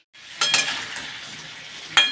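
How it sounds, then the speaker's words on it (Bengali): Potatoes frying in oil in a pan, a close, soft sizzle that rises with a clatter as the pieces are stirred, then settles, followed by another brief stir near the end. "এখানে এবার আলুটা ভাজা হোক একটু লাল লাল করে"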